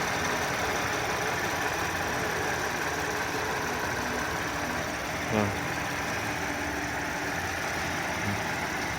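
Warmed-up Audi 3.0 TFSI engine idling, a steady even hum that holds throughout with one brief faint knock midway.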